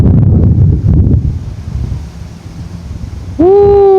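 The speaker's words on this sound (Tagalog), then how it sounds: "Lakas ng hangin dito, guys." Strong wind at a lake buffets the microphone with loud, rumbling gusts that ease off partway through, then a sudden clear, rising tonal call cuts in at the end.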